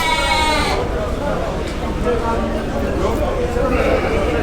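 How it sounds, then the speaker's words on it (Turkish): Lambs bleating amid a busy outdoor livestock market in Turkey, with people talking in Turkish over the animal calls throughout. "Bunlar maşallah hepsi biblo gibi kuzular arkadaşlar."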